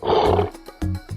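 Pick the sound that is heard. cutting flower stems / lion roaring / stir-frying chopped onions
lion roaring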